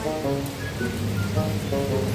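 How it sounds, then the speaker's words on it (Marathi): Rain hisses steadily with a low rumbling undertone, no one speaking. "सो पाऊस येतोय बघा"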